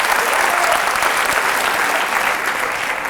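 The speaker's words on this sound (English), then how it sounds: "Give yourselves a round of applause" University lecture audience gives itself a round of applause, a loud, dense and continuous roar of clapping from a large crowd that barely eases over a few seconds.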